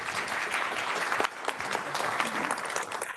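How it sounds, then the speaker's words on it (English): Audience applause at an evening climate-tech reception, a dense, steady wash of many hands clapping at moderate distance, continuing for a few seconds with no talk over it. "A round of applause."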